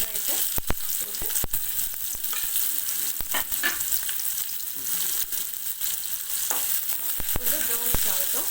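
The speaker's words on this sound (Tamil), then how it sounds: "கட் பண்ணி வச்சுட்டு வெங்காயத்தை போட்டு" Sliced onions fry in a pan for chicken chukka, giving a continuous close sizzle broken by repeated sharp clicks and scrapes of stirring, with no speech.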